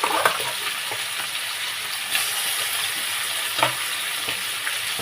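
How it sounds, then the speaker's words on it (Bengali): Chicken pieces rubbed with salt and turmeric fry in hot oil in a pan, making a continuous close sizzle broken by a few louder crackles and the scrape of occasional stirring. "মাংসগুলো অল্প অল্প করে দিয়ে ভেজে নেব।"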